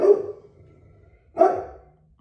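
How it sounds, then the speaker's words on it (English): A dog barks twice, close by, with a pause of over a second between the two sharp barks. "when Max starts barking too"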